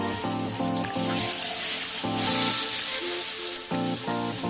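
Ginger, garlic and green chili paste sizzles loudly and steadily in a hot pan for chicken biryani, a close continuous frying hiss with no talk, while a regular plucked instrumental melody plays alongside.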